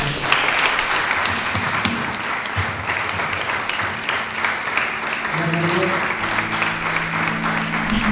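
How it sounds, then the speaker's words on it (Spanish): A church congregation claps together in a sustained round of applause during a sermon, with a voice and faint tones carrying beneath the steady clapping. "Dale un aplauso."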